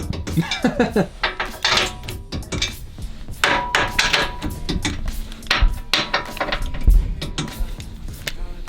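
Plastic snap clips from a 2019 Subaru Crosstrek skid plate installation being pressed back into their holes, a rapid series of close clicks, taps and rattles with handling noise and no talking.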